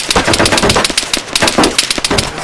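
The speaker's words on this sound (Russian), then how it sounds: "Он с пулемета стреляет. МК-200." Sustained automatic fire from an MK-200 machine gun in the ArmA 3 video game, a rapid, dense rattle of shots that stays loud and close throughout with no pauses.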